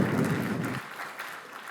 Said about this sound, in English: That's applause from me.